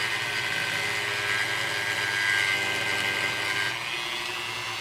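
A handheld Dremel rotary tool sands down a plastic model starship mast, a steady high-pitched whine held close and loud, easing slightly near the end.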